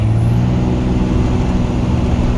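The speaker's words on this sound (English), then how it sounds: "You wanna rev it up, Jesse?" A vehicle engine runs loud and steady at high idle while being revved, with a strong low rumble and a faint whine climbing as the revs rise; no talking.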